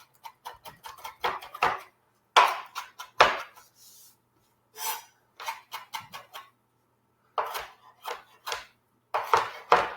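Knife chopping citrus on a wooden cutting board for a holiday sauce, producing clusters of quick, crisp taps close up, in irregular bursts with brief pauses between them.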